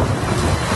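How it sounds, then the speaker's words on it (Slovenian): Strong wind during a storm in Ljubljana, a loud, continuous roar and buffeting of the microphone with no talk. "Močan veter je povsod po Ljubljani dvigoval strehe."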